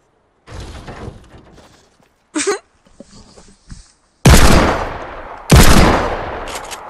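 Bursts of gunfire in Fortnite: a short sharp shot early on, then two loud, heavy blasts that ring out and decay, with quieter rattling sounds between them.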